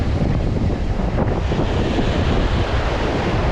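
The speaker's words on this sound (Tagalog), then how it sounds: "Sobrang lakas ng alon. Sa alon, sa hangin." Strong surf crashing continuously with heavy wind buffeting the microphone, a loud, unbroken roar throughout.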